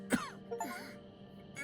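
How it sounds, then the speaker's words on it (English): A male character in the video game Rue Valley coughs and clears his throat, one sharp harsh cough followed by a rasping strained moan, close and fairly quiet. "He coughs, his whole body heaving with the effort."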